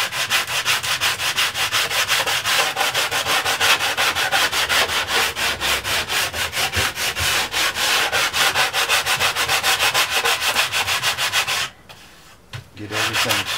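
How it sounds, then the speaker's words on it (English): A sanding block rubbed back and forth over the wooden back and sides of a handmade guitar body, a rapid, steady rasping scrape that stays loud and close with one brief pause near the end. "one thing I like to do here is take a sanding block"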